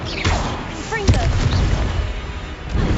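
A Confringo blasting-spell explosion in Hogwarts Legacy gives a sharp, loud burst with a booming thud and crackling tail, mixed with game effects and a player's voice.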